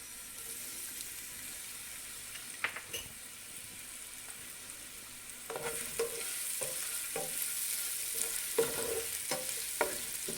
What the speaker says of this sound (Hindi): तेल में क्रश टुकड़ा करी हुई साबुत लाल मिर्च डालेंगे और इसी में लहसुन और हरी मिर्ची का पेस्ट डालेंगे 2 चम्मच